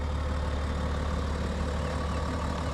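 A BMW 730d G11 diesel engine idles steadily with no one inside, a low, even rumble holding constant throughout with no voices over it.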